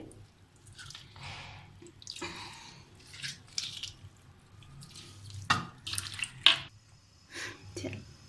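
Washed bitter gourds are squeezed by hand, making soft, wet squelches and splashy drips that come in short, irregular bursts close by in a quiet kitchen.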